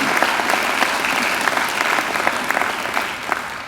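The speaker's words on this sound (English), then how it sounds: "I think they deserve a great round of applause too." A graduation ceremony crowd gives a sustained round of applause for alumni volunteers, many hands clapping in a dense, even wash at moderate distance, with no talk over it.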